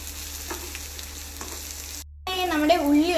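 Onions sautéing in a hot pan, a continuous close sizzle that cuts out briefly before a voice begins talking over it.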